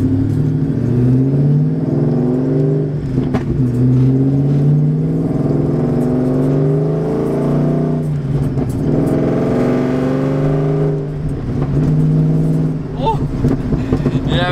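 A nitrous Mustang's engine revs and pulls hard through the gears while driving, a steady loud mid-pitched drone that rises and falls with each shift, with someone talking over it at times.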